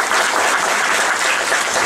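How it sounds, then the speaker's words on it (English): An audience at a talk event applauds a volunteer, a dense, loud, steady clapping from a crowd that fills the whole moment without voices. "give a round of applause for our volunteer and"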